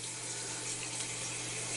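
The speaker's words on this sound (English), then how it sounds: "we're going to actually let the water level fill up to just under the top" Water runs steadily from a tap into a stock pot, a continuous close rushing stream with no pauses and no talk.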